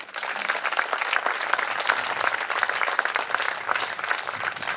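Sustained applause from an audience at an award ceremony, many hands clapping steadily at moderate volume throughout.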